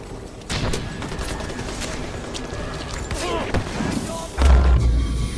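An explosion in the video game Far Cry 4 booms amid a rattling barrage of gunfire, loud and dense, with a heavy thump near the end.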